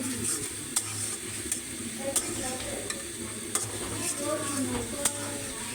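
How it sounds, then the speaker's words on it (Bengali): Spinach and chili stir-fried in a pan: a steady close sizzle runs throughout, with a spoon clacking against the pan every second or so. "এখন আমি এটা সুন্দর করে কষাই নিব"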